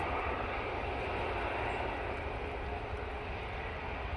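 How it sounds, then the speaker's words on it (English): An EasyJet Airbus A320neo taking off from Manchester Airport in windy weather, bound for Tenerife: a faint, distant, even jet roar holding steady throughout with no talk. "EasyJet A320neo going off to Tenerife"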